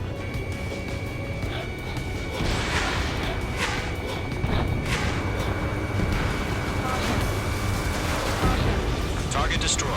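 A missile striking and exploding on its target in the jet combat game Ace Combat 7, heavy rumbling blasts layered with repeated bursts over steady jet engine drone and radio chatter.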